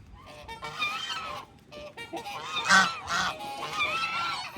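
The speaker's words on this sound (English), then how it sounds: "Here comes some geese." Several geese honk near a lake in Orlando, with loud irregular calls coming in bursts and overlapping, close by, and little other sound.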